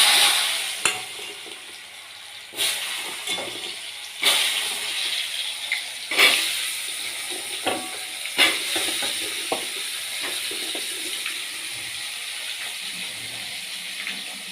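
Potatoes coated in turmeric and salt frying in oil give a steady, close sizzle, punctuated by sharp stirring scrapes and clacks every couple of seconds.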